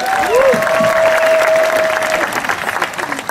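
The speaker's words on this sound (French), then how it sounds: "Applaudissez très fortement pour vous-même." A crowd at the Toseka comedy festival in Kinshasa breaks into loud, sustained applause, with a long whistle and a few cheers riding over the clapping before it starts to thin out.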